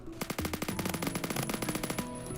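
Rapid machine gun bursts in the Phantom Forces shooter game, loud and close, with sharp repeated shots in quick rhythmic clusters and no talking.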